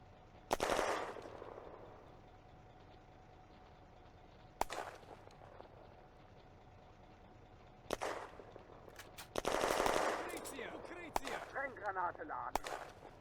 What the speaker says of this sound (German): Firing dies down